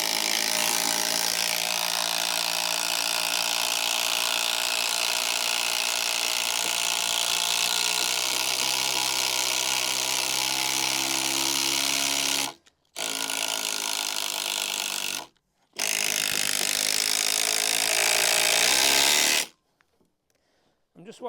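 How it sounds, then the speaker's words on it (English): A power driver sinks a 250 mm screw into timber while a garden office frame is built, a steady loud mechanical whir that runs continuously, broken by two brief pauses before stopping. "I'll then drive the 250 screw in there."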